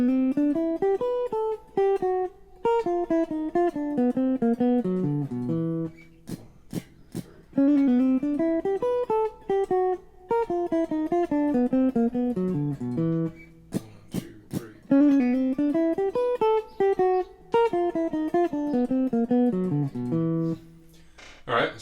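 Guitar plays a ii-V-I bebop lick, a clear single-note melodic line with quick running phrases repeated several times, brief pauses between passes, close and alone with no talking.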